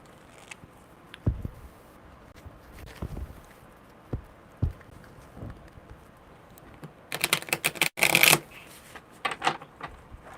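Tarot cards are shuffled by hand, with scattered soft taps and rustles early on, then a dense, close riffle of card shuffling in a couple of quick bursts toward the end, in an otherwise quiet room.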